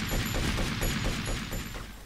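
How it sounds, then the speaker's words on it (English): Pistol gunshots in the video game Grand Theft Auto: Vice City, a quick string of about eight regular sharp shots over a noisy game background, loud and close with no talk. "I'm taking him out with a pistol."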